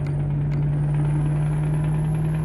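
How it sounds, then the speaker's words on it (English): A Scania truck engine in Euro Truck Simulator 2 drones at steady cruise, a loud low constant hum with a faint rising high whine, and no talking over it. "Just listen to that engine."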